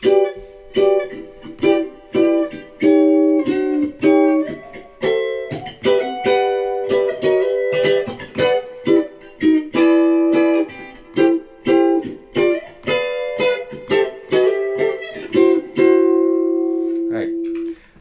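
Clean electric ukulele strums short chord stabs in a steady rhythmic pattern, each chord ringing briefly with a warm, slightly driven tone, no voices.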